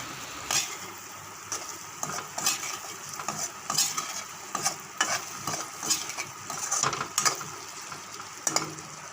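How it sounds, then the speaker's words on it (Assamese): Eggs and potatoes with spices being stir-fried in a pan for an Assamese egg gravy, a soft sizzle under repeated rhythmic scrapes and clanks of a spoon against the pan, close up and without speech. "এতিয়া মছলাবোৰৰ লগত কণী আৰু আলুবোৰ ভালদৰে মিহলাই ল'ম।"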